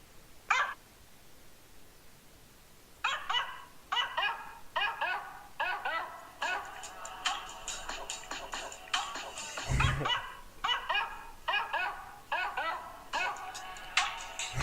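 A dog barks in a meme clip, a run of sharp yips and barks that comes in quick bursts, starts sparse and then grows dense and excited, with a brief thump midway.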